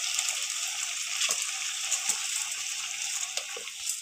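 Washed basmati rice tipped into hot masala in a pan brings a steady sizzle with wet splashing and scattered small clicks and taps.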